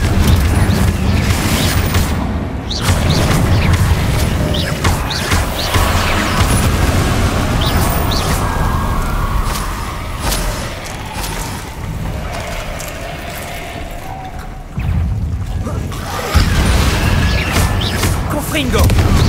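Repeated Confringo fire-blast spells burst and boom in Hogwarts Legacy, several heavy impacts spread across busy game sounds and music, with a voice talking throughout.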